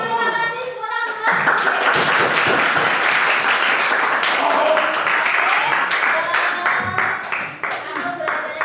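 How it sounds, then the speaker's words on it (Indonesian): A classroom of high school students bursts into sustained clapping, dense and lively throughout, with a few voices and cheers mixed in under the applause. "Tepuk tangan dulu"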